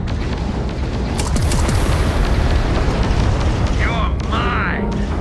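Missile explosions in a Starfield space battle, a dense continuous roar of booms and blasts rumbling loudly throughout, with sharper bursts near the end.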